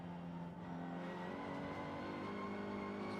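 On-board engine of a touring car on the Macau Guia street circuit, throttle modulated through the last corner, a steady high-revving drone with slight fluctuations, close and continuous.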